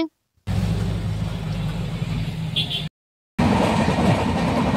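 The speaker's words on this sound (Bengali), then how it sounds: "এখন ট্রেনে চড়ে গেছি, আমরা উঠে পড়েছি, আমরা ট্রেনে।" Train rolling along the rails with a steady broadband rumble and clatter, heard from inside a passenger carriage, with two brief silent gaps in the middle of the stretch.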